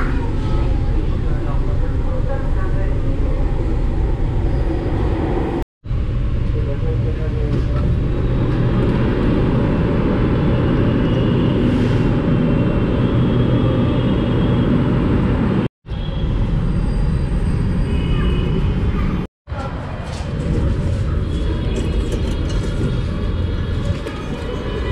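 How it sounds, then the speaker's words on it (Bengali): A Delhi Metro Blue Line train pulls into a station with a loud, sustained rumble and rolling wheel noise, broken by a few abrupt cuts, while people talk nearby. "ট্রেন এখনই চলে আসবে।"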